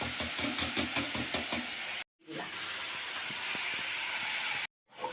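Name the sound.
mixture for fish cutlets boiling and bubbling in a pan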